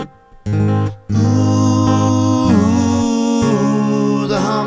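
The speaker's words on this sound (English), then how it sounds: "the harmonies are coming through" A sung vocal line layered with electronic harmony voices from a vocal harmonizer effect, sustained notes shifting in pitch over a held accompaniment, loud and close, no speech.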